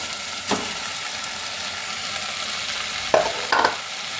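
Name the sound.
stirring rice while cooking kara pongal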